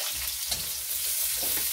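Onions added to a pan for coconut-milk eel with peanut butter sizzle in a dense, steady hiss with soft stirring bumps, close and continuous.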